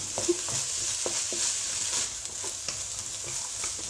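Beef stir-fries with peppers, onion and ginger in a hot pan, a steady close sizzle broken by the scrape and clack of a utensil stirring.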